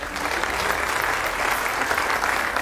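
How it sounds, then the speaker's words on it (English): Steady, loud applause fills a hall at an IndyCar championship celebration, a dense continuous wash of clapping from a large audience without a break. "Round of applause for Mr."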